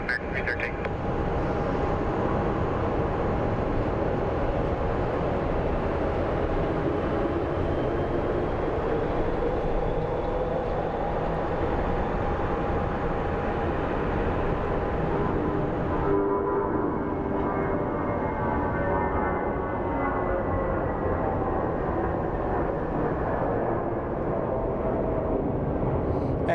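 An airliner taking off at Phoenix Sky Harbor airport makes a steady, loud broadband engine roar that holds for the whole stretch and shifts in tone partway through as it climbs away.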